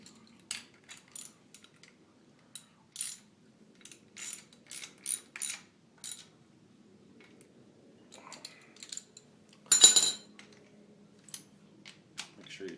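A torque wrench tightens engine bolts during a Ford 289 V8 rebuild, giving short, faint metallic clicks at irregular intervals, with a louder burst of clatter near the end against a quiet workshop background.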